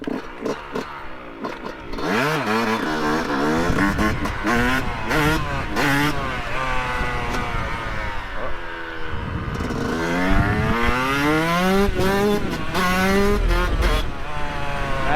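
Yamaha YZ125 two-stroke dirt bike on a mountain trail, its engine revving hard and climbing in pitch through repeated gear shifts, loud and close with a steady rasp throughout.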